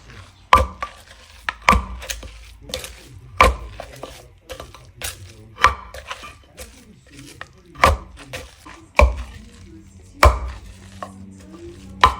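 Fermented fish (pla ra) is pounded and chopped with sharp, heavy knocks at a steady unhurried pace, each thud ringing briefly over a quiet kitchen background.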